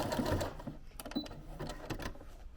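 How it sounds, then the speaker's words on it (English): A home sewing machine stitches a small tack on a cowl for a spring top, a quick run of rapid mechanical needle clatter with brief rhythmic pulses, close and fairly quiet. "I'm just going to do a small little tack right here"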